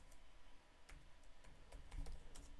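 Quick, irregular clicks of typing on a computer keyboard, close and fairly soft over a light room hiss, with a few heavier key strikes toward the end.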